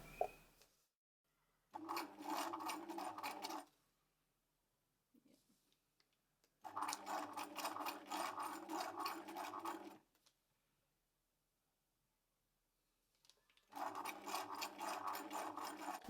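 A Bernina 1008 sewing machine stitches a buttonhole in three steady, whirring bursts, each a few seconds long, separated by quiet pauses, close up and with no talking.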